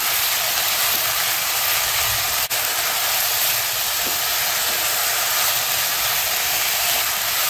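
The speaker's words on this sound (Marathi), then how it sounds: "आता हे छान परतून घेऊ आधी" Grated potato sizzles and hisses in a hot pan, a steady broadband frying sound that stays even and fairly loud throughout with no talk.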